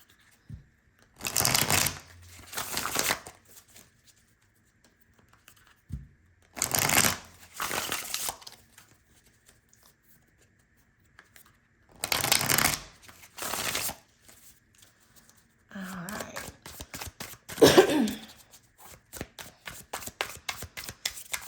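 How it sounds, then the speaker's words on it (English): Tarot cards are bridge shuffled again and again, each riffle a brief crisp flutter followed by a pause, ending in a quicker run of riffles. "So to those who do not like bridge shuffling, I apologize in advance"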